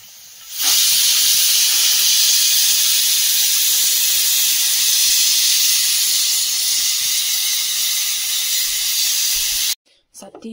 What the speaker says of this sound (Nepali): कुकरमा चाहिँ सिटी लगाइदिँदैछु हो